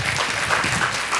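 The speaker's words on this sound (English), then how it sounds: "Let's give them a round of applause once again" Brief applause from a seated audience at an English education training session, a short burst of many hands clapping at moderate loudness.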